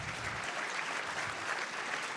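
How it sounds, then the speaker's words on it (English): A luncheon audience at a business hall of fame induction applauds with even, continuous clapping, steady and moderately distant throughout. "Let's give him a round of applause."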